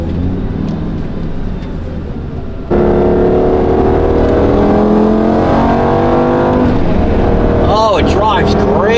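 Lamborghini Gallardo pulling away under paddle-shift acceleration, a loud steady engine drone rising through the gears from inside the cabin, with a brief talking voice near the end.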